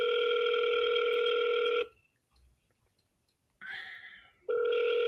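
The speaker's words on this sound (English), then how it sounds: "I'm calling another lead right now." Telephone ringback tone heard while dialing a real estate seller lead: a steady loud ring for nearly two seconds, a silent gap, then the ring resumes, alone with no talk.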